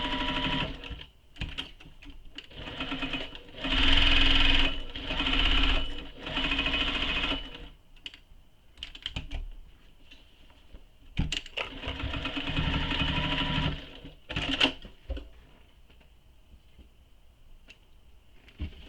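A sewing machine back stitches across the bottom of a tote bag pocket, running in several close, loud bursts of rapid needle chatter separated by short pauses, with quieter stitching toward the end.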